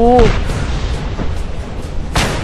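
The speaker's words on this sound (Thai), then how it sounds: "อะไรระเบิดวะเนี่ย" A deep, rumbling explosion in the open-world action game Just Cause 2 rolls on as a sustained low boom, ending in a sharper hit near the close.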